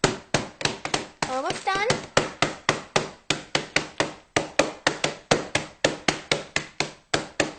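Oreo cookies are whacked into crumbs with a rapid, steady series of sharp thuds and taps, close and loud, while a voice briefly speaks partway through.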